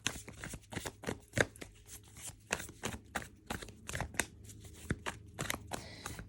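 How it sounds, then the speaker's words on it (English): Tarot cards shuffled and drawn close by, a long run of crisp irregular riffles and flicks with soft slaps between them, with no talking. "I'm going to draw one more card for you."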